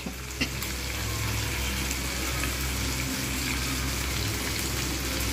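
Ginger garlic paste frying in a pan with mashed taro and potato, a dense steady sizzle that stays loud and even throughout, heard alone up close.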